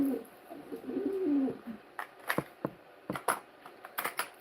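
A white pigeon coos close by, a few soft low rolling coos followed by scattered taps and flutters.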